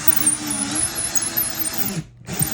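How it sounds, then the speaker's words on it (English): A long 6-inch, 1/4 inch drill bit bores into hard pecan wood, giving a steady, close power-drill whine and grinding. It stops briefly near the end, then starts again. "This is a 1/4 inch drill bit, and it's pretty long. It's about a 6-inch long drill bit. We are drilling through pecan."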